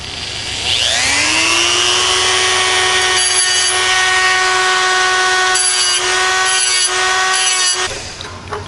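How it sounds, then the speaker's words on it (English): A Dremel cutoff wheel cuts into knife scales with a loud, high whine that starts abruptly and holds steady for several seconds, then stops suddenly, with no talk over it. "I just personally like to use the cutoff wheel because it works pretty quickly."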